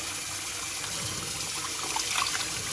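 Water runs steadily from a tap or is poured while bread dough ingredients are being washed, a continuous close splashing gush with no talk.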